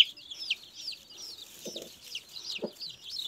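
Chickens and young chicks in a coop with a Brahma hen: repeated high peeping chirps run throughout, with a few short lower clucks breaking in, close and moderately loud, no talk.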